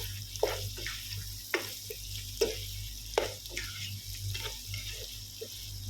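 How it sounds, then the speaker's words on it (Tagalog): Meat and onions are stirred in a pan, a spoon scraping and clacking in irregular strokes over a soft background sizzle, fairly close and without talk. "Haluin lang natin ang haluin hanggat mahalo yung mga aromatic ng mga sibuyas na tangkap doon sa ating karni"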